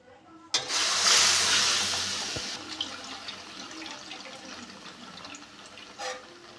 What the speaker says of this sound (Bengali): আমি দু বাটি দুধ দিয়ে দেবো যতটা সুজি নিয়েছি তার ডবল দুধ